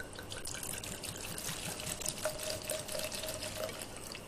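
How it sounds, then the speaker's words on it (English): Calvados is poured and measured into a container in a kitchen, a close, steady liquid trickle lasting a few seconds, with no one speaking. "now I'm going to measure out the calvados"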